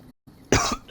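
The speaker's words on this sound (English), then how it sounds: "My gosh, I got this cough today." A single sharp cough bursts out close by, followed a moment later by a second short cough.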